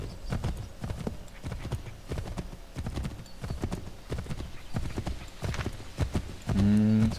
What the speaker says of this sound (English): I'm gonna see if I can just ride my horse straight in.